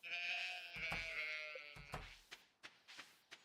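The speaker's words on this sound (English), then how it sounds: "let's at least go say hello to the sheep before we leave." Sheep in a farming video game bleat in long wavering calls up close, followed by a few sharp clicks and taps, with no talk.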